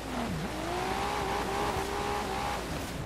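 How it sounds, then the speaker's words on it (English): A Nissan Skyline R33 GT-R V-Spec twin-turbo inline-6 in Forza Horizon 4 drones steadily, its engine note dipping briefly and then climbing and holding as it revs, close and continuous with no talk. "This is the sound of the Skyline engine."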